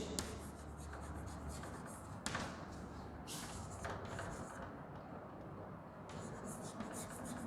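Faint chalk or marker strokes scratch across a board during an English grammar lesson, a sequence of soft rubbing and scraping strokes with brief pauses, quiet and close.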